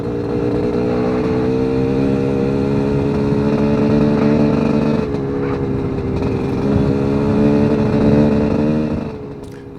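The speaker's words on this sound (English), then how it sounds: "you don't want to get up on a road and hold a two-stroke wide open like that for a long period of time" A two-stroke motorcycle engine is held wide open at full throttle on a desert road near Quartzsite, a loud, continuous buzzing drone with a steady high pitch that barely wavers for ten seconds.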